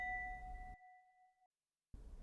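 Minecraft note block playing its chimes sound: a single clear bell-like tone ringing out and decaying over about a second, heard faintly after a burst of low background noise.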